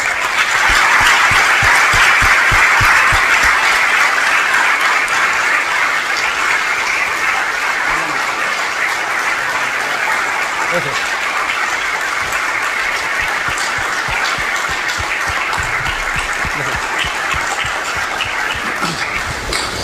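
Conference audience at a forum on training for success, giving a speaker long, dense applause that stays loud and steady for the whole stretch, with no voices over it.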